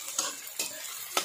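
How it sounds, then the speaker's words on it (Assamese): Cabbage, tomato and onion stir-fried in a pan for an afternoon home meal, three quick scraping stirs with sizzling between them, close and alone. "ইয়াতে বন্ধাকবি বিলাহী আৰু পিঁয়াজ দি পেলাই মই এইখিনি ভাজি আছোঁ।"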